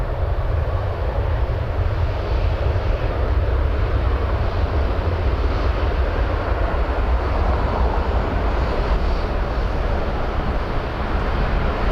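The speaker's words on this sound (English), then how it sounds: "The Edinburgh WestJet is on the roll." A WestJet airliner bound for Edinburgh rolls for takeoff at Toronto Pearson, its jet engines a loud, steady, broadband roar that holds for the full twelve seconds with no talk.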